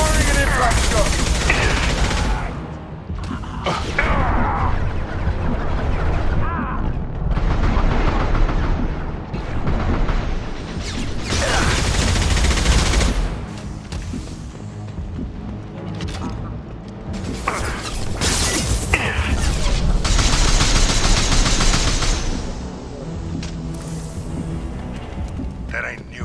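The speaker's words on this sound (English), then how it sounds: "Firing an impact shot!" Combat in Mass Effect 2 with an impact shot fired amid gunfire bursts and mechanical clatter, loud and continuous, with character voices speaking over the battle.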